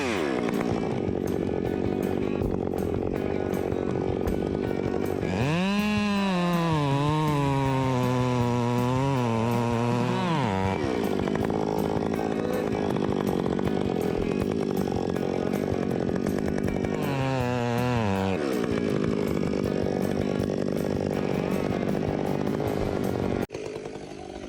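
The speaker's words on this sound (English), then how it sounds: "The chainsaws roared as they cut through the wood." Large chainsaws roar loudly while pruning heavy tree branches during forestry work, the engine note rising and falling sharply as it bites into the wood, then steady high idling with a second brief cutting burst.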